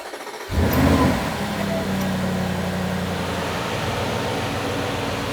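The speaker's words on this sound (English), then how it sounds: "it's time to start the car" An Audi RSQ8 engine cranks and catches, surging briefly to a loud rev before settling into a steady, close idle.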